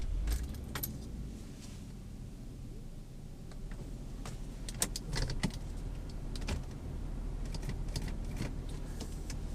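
Infiniti G35 with a manual gearbox cruising down Old Julian Highway, heard from inside the cabin as a low steady engine and road rumble with scattered faint clicks and rattles.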